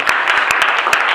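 A church congregation applauds the Lord, with dense, steady clapping filling the room and a few sharper individual claps standing out.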